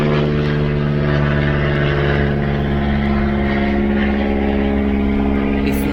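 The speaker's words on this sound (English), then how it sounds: "sorry for the airplane." A propeller airplane passes overhead outdoors, a loud, steady droning engine hum with strong low harmonics that holds throughout, with no speech over it.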